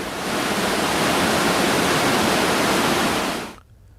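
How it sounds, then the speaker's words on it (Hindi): Water thunders through the gates of Tenughat dam into the Damodar river, a loud, dense, unbroken roar that holds steady for several seconds before cutting off abruptly. "इस डैम से दामोदर नदी में पानी छोड़ा जाता है"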